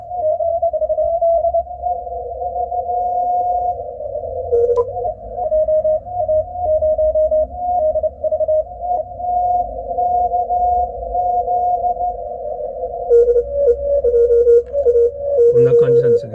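Several Morse code CW signals overlap in a pileup on an Icom IC-7300M amateur radio transceiver, steady keyed tones close together in pitch, chirping dots and dashes running continuously and loudly with no voices.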